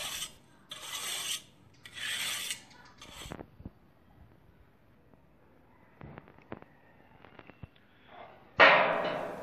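A hacksaw blade files the sharp edges of a cut metal frame piece in a few rasping strokes, with scattered clicks and knocks of handling between them and one louder scrape near the end.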